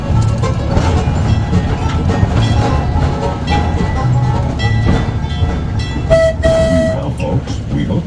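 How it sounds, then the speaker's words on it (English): A tour train rolls along its rails at Calico Ghost Town, giving a steady close rumble and clatter throughout. A brief horn or whistle tone sounds near the end. "Please remain seated until the train comes to a complete stop."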